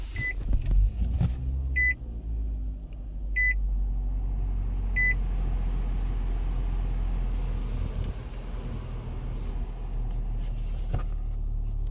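A 2023 Nissan Altima SR being switched on: a low steady engine hum fills the background while a few short electronic chime beeps sound at intervals, then a deeper rumble settles in.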